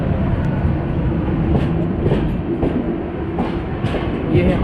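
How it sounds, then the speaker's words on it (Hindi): Humsafar Express passenger train running between Prayagraj and New Delhi, heard close as a continuous loud rumble with rhythmic clickety-clack wheel beats throughout. "ये है हमसफ़र एक्सप्रेस। हमसफ़र एक्सप्रेस है प्रयागराज से नई दिल्ली के बीच चलने वाली।"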